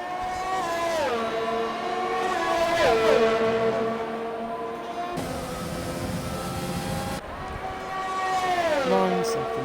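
GP3 race cars scream past at the Italian Grand Prix. High-revving engines rise and drop through gear changes as several cars go by in turn, loud and close, while a commentator talks over them.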